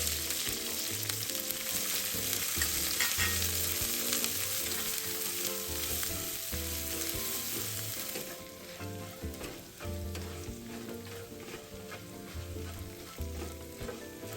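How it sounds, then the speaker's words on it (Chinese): Ginger slices, dried chilies and minced garlic frying in oil over low heat for Szechuan spicy chicken, giving a steady loud sizzle with rhythmic stirring scrapes that eases slightly partway through. "这香料全程小火慢慢炒香，避免香料炒焦、发黑、发苦。"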